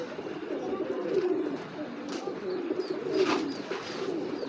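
Racing homer pigeons cooing together, a steady soft chorus of low throaty coos with occasional louder swells and faint chirps.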